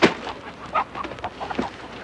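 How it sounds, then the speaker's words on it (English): Farmyard chickens cluck in short, scattered bursts at close range, with a few sharper calls standing out over a soft background and no talking. "You have some fine-looking chickens here."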